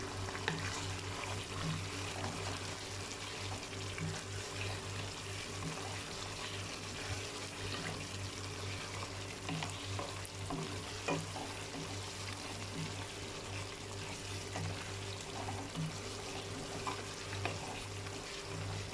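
Mutton and spinach gravy frying in a pan as dry masala is stirred in, a soft continuous sizzle with scraping stir strokes and a low steady hum, no talking.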